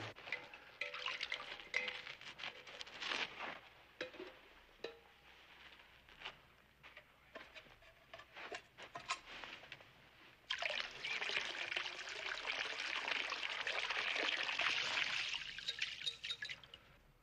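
Water is poured and trickles steadily in an outdoor Western scene, a continuous splashing stream that swells louder toward the end, close and unbroken.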